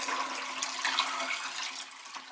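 Colloidal silver water is poured into a container at close range, a soft, continuous splashing trickle for a couple of seconds with no talking.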